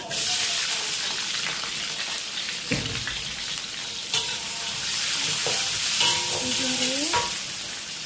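Cabbage stir-fried in a pan in a home kitchen, a loud steady sizzle with stirring scrapes and clanks of the utensil against the pan, plus brief tonal metallic rings.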